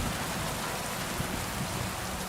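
Rain falls steadily in the medieval open-world video game Kingdom Come: Deliverance II, a dense, even hiss of drops on surfaces that holds at the same level throughout with no voices.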